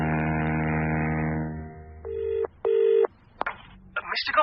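In a BBC radio drama, a telephone effect sounds: a fading tone gives way to two loud, clipped rings, followed by the clatter of the receiver being picked up and a voice beginning to speak.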